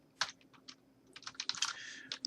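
Quick bursts of typing on a computer keyboard, close and crisp, with irregular clusters of key clicks separated by short pauses.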